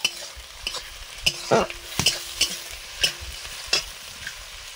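Finely chopped onions fry in a pan, a soft sizzle beneath a series of sharp scraping and clanking strokes as a spoon stirs them at an uneven rhythm.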